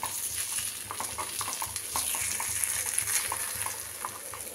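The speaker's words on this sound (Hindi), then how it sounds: "इस तरह से सारे को मैं पलट दे रही हूँ" Semolina and vegetable appe being turned one by one with a spoon in an appe pan, light metallic taps and scrapes recurring over a steady close sizzle, with no voices.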